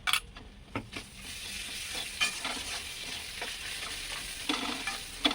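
A spice paste of turmeric, Kashmiri chilli, ginger, cumin, green chilli, onion and garlic fries in a pan with a close, continuous sizzle and repeated scraping stirs, alone without speech.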